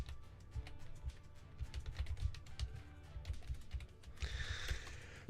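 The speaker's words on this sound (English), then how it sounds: "if you're wondering what I'm doing, I'm typing" Rapid typing on a computer keyboard, close and uneven clicking keystrokes in quick runs, ending in a louder burst of clattering keys, with no talking.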